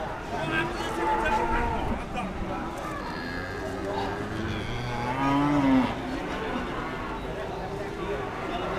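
Cattle low and moo at a Pati cattle market where Pegon cattle are for sale, the calls rising and falling over steady crowd chatter, with one clearer, louder moo standing out near the middle.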